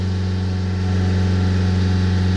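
Nissan Juke engine with a blocked diesel particulate filter held steady at about 3,000 rpm, a loud, constant drone with a strong steady hum and no variation in pitch.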